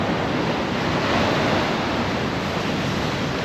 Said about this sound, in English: There's some big waves coming in here.